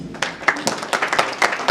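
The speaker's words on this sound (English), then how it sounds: "Let's clap once again." An audience at a technology and innovation conference claps in a short, uneven burst of hand claps, moderately loud and close.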